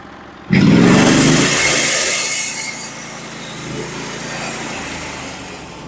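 A Norwood HD36 bandsaw mill with a freshly sharpened Stellicut band and new roller guides bites into red oak, the loud blade hiss starting abruptly and settling into a steady whining cut that continues alone.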